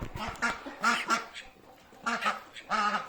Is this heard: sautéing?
no